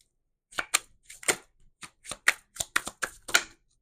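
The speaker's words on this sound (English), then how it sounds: "let's keep shuffling and see what else comes out" Quiet, close riffling and soft slaps of cards being shuffled come in short irregular bursts against near silence.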